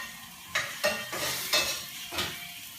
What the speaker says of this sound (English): So we're gonna saute again some onions